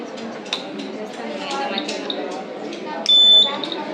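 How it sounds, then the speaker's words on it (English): A smoke sensor on a student science exhibition model gives a single loud electronic beep lasting about half a second near the end, over busy background chatter and clatter. "If at all any accident takes place in the garbage area, here smoke sensor gives an alarm."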